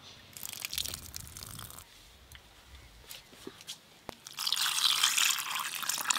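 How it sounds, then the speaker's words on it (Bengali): Water being poured off and drained from food during rinsing in a kitchen, with soft dripping and splashing that builds into a steady louder pour toward the end, up close. "আবারও একবার এই জলটা ফেলে দিয়ে পরিষ্কার জল দিয়ে ধুয়ে নেব।"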